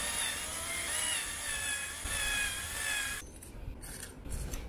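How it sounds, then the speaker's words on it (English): A 5mm drill bit bores a screw hole in a part for a DIY CNC foamboard cutter's X axis, giving a steady whining grind for about three seconds before it stops, leaving faint handling noises. "I have to drill it with a 5mm drill bit."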